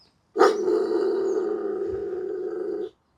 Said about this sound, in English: it's going to be quite loud, and it's quite an aggressive bark